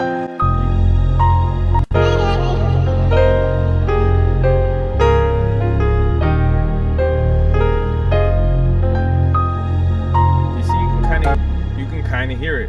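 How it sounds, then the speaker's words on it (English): A shimmering, bell-like synth melody from the Crystalline preset in Logic Pro X rings out over a steady backing of low sustained chords, bright tones decaying gently as the notes change. "It's called crystalline, but it's like bells."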